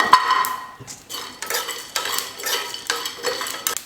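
Dry spices, including fennel seeds with garlic cloves, scrape and rattle as a spoon stirs them around a hot pan, with a faint crackle between the stirs.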